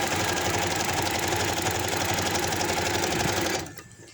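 A sewing machine stitches lace on palazzo pants, running with a steady, close, rapid mechanical whirr for several seconds before abruptly stopping.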